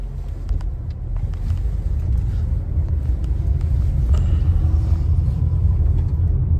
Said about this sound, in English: I just left my work shop. I'm driving.